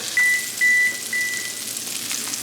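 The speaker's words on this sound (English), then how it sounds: "So I'm gonna add some butter to my cast iron skillet. It is piping hot" Butter sizzles in a piping-hot cast iron skillet, giving a steady high hiss, while three short electronic beeps sound over it at the start.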